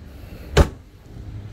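One hard, sharp slam of a Toyota AE92 car door shut with extra force, a lone loud impact in the middle amid quiet surroundings.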